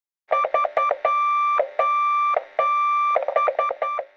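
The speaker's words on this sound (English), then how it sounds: "Here's what an SOS sounds like in Morse code." Clear electronic beeps tap out short and long tones in Morse code: three quick, three long, three quick, loud and close with no talking.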